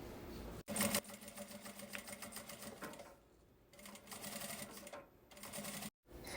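A sewing machine stitches along the edge of a zipper pouch in fast, rattling bursts. It starts and stops several times, with brief pauses and quieter gaps between runs.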